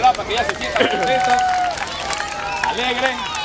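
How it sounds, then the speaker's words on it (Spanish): Audience clapping and cheering for Candy, a police dog and sergeant, at a canine unit exhibition at La Salle school in Panama, with crowd babble and voices mixed through the short applause. "Un buen aplauso, ¿verdad? Para que ella se sienta contenta"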